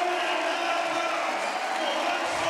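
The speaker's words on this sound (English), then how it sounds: "the crowd getting a real show here" A strongman crowd roars and cheers steadily after a world-record lift at the 2009 American Grand Prix, a dense, loud wall of voices under a commentator's talk.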